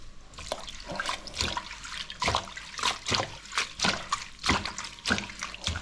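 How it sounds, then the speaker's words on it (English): Tap water runs steadily into a kitchen sink while parsley is washed, a close, continuous splashing with rhythmic surges as the leaves are rinsed under the stream. "Wash the parsley."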